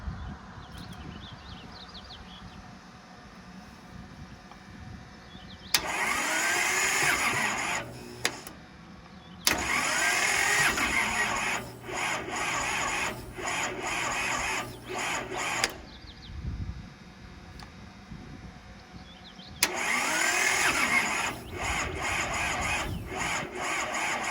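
A Kubota L285 tractor, idle for over eight years, cranks on a jumpered starter in three long grinding bursts separated by pauses, fairly close and steady, with no voices.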